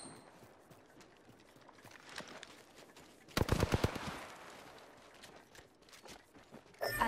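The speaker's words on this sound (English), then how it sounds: "The enemies are shooting at me." Enemy gunfire in the battle royale game Apex Legends, with scattered distant shots and one sharp, loud burst of rapid automatic fire midway, plus a brief loud hit near the end.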